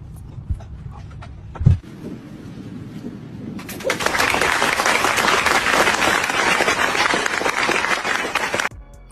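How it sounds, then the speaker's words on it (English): Audience clapping erupts suddenly and continues as loud, dense, sustained applause for about five seconds before cutting off, preceded by a few scattered thumps and quieter background noise. "Why y'all clapping?"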